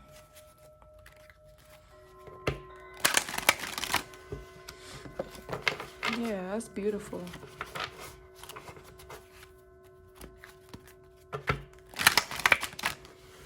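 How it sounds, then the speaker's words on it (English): Tarot cards are shuffled in several crisp, riffling bursts, with quieter handling and tapping between them. A voice speaks once, briefly, near the middle. "I think I shuffled this way more than 5 times."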